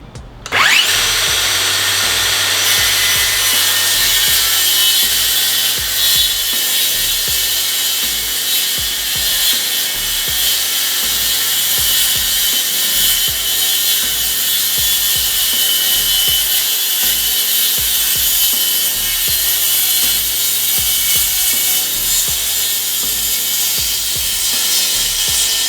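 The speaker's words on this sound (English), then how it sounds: "Just got to cut these corners out just so they slip into here." A power tool cuts corners out of a workpiece in a workshop, a loud continuous high whine with a rapid low chatter underneath, lasting throughout after a brief start.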